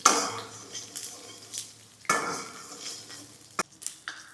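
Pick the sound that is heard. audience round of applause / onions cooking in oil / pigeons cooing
onions cooking in oil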